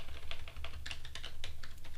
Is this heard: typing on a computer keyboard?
yes